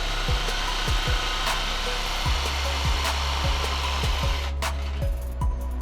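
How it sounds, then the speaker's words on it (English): A jigsaw cuts a small notch in a vinyl floor plank, its motor whining steadily and close throughout with rhythmic rasping blade strokes that thin out near the end. "With a simple jigsaw or a handsaw,"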